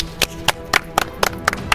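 Slow, evenly spaced claps ring out, about seven sharp hand claps in under two seconds, close and distinct with no talking.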